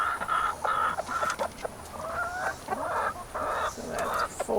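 A flock of young farm chickens clucking and chirping close by, overlapping short calls in a busy steady chorus over low background noise.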